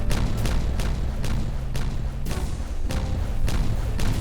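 Explosions detonate in the colony-building game Timberborn as a rapid chain of heavy booms, about eight blasts in quick succession, each a loud thump with a crackling tail, with no talking.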